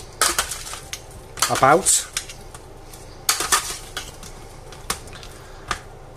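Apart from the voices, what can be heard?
mixing roasted potatoes and chicken in an oven dish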